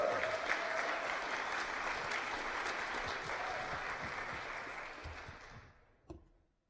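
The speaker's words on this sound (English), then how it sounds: "Let's give him a round of applause." Audience applause at a meeting, a dense, steady wash of clapping from a crowd that holds strong for about six seconds, then thins out and stops with a few final claps.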